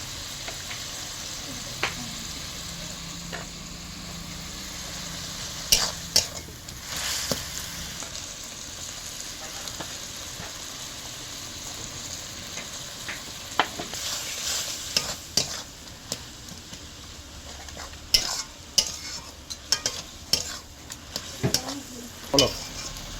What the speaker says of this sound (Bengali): এবারে লাল লাল করে মশলাটা ভেজে নেবেন